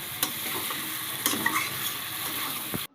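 Desi chicken is stirred in a pot for a thin curry, with a steady close sizzle and a few sharp scrapes of the spoon against the metal.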